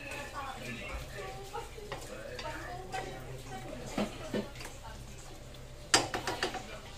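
Pork cubes for dinuguan stir and cook in a pan, giving scattered soft clinks and scrapes that build to a short burst of metallic knocks near the end, heard over steady background noise.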